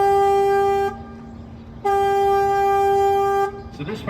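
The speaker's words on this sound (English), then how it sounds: "I have to honk the horn." Horn on a San Antonio River tour boat sounding two loud, steady tonal blasts, about one second and then nearly two seconds long, separated by a short gap, with faint background noise between.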